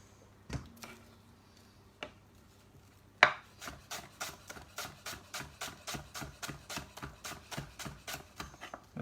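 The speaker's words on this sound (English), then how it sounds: "Chop them up a little bit actually because only the ends." A knife chops onions on a chopping board in a cookery school kitchen: two isolated knocks, then a steady, evenly spaced run of crisp chops, close and clear.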